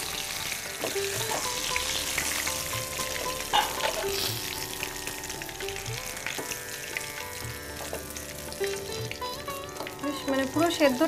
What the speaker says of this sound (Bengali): বেগুনটা মনে হচ্ছে ভাজা হয়ে গেছে